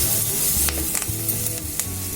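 Turmeric stirred into sizzling oil in a pan for a sorrel leaf and chana dal curry, giving a steady close frying hiss with a few soft scraping strokes, no voices.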